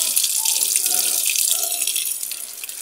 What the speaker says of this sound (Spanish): Y ahí vuelve a llenar con más agua.